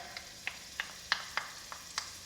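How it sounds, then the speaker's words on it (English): Garlic sizzles quietly in warm olive oil, with a handful of sharp clicks and pops scattered irregularly, like a wooden spoon tapping and stirring in a pan, close up. "I will add the garlic, like so, and you can hear the sizzle"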